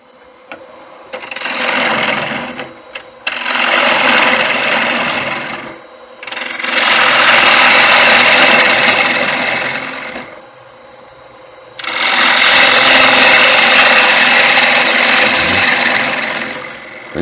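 A wood lathe hollows a shallow tiger wood platter, a loud broadband cutting roar that comes in three long sustained passes separated by brief quieter pauses where the spinning motor hum continues underneath.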